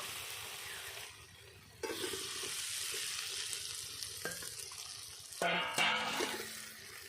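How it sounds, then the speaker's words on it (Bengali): Fried potatoes tumble into a sizzling ghugni masala of oil and spices, a broad frying hiss that swells louder as the pieces land, with scraping stirs and small knocks, no voices. "এখন দিয়ে দেবো ভেজে রাখা আলুগুলো"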